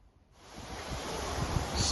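Wind rushing in a garden on a rainy October day, building over a couple of seconds into a steady, breathy roar.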